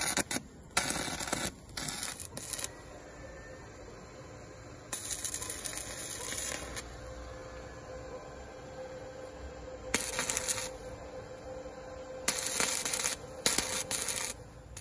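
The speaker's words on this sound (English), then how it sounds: "But we have a metal gate, so we're gonna weld it on." A bracket being welded onto a metal gate while a Topens dual swing gate opener is installed: four separate bursts of harsh, hissing crackle, each a second or two long, with quieter gaps between them.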